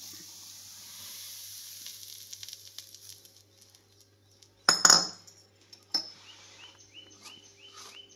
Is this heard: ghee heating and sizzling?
yes